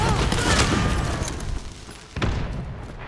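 Gunfire in the video game Hunt: Showdown, a dense burst of loud, cracking shots that thins out, then a sharp shot near the end, with faint voices underneath.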